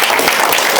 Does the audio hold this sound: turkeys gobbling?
no